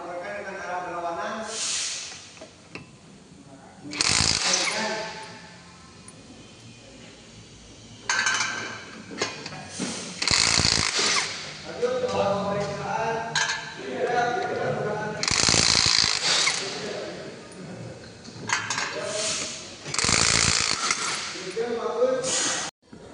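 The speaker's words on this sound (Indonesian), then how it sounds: "Menyambungkan pelepasan pada roda menggunakan impact." Pneumatic impact wrench loosening car wheel nuts in a criss-cross pattern during a brake inspection, several loud hammering bursts with hissing air between them, close by, while someone talks over and between the bursts.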